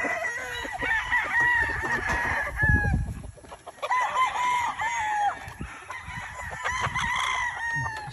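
A gamefowl rooster, a super brown red type, crows repeatedly nearby and loudly, with its calls overlapping other farm noise throughout.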